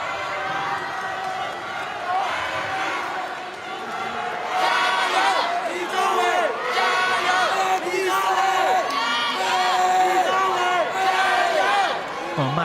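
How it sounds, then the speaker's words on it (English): Crowd at a badminton world championship match in Glasgow cheering and whooping for a French player, a steady roar that swells louder midway, with commentary voices over it. "massive support from the French in the crowd here in Glasgow"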